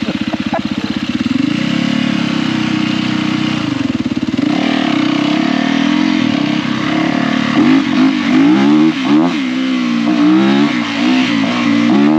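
A KTM 350 EXC dirt bike engine runs loud and close, with a steady buzzing idle that gives way to repeated sharp throttle blips and revs in the second half.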